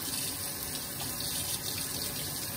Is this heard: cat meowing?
no